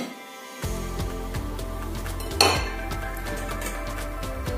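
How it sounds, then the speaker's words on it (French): Yeast being stirred into flour in a bowl gives soft scraping and repeated light clinks of a utensil against the dish, close and fairly quiet, with one sharper knock midway. "J'incorpore donc la levure dans la farine. Je mélange bien."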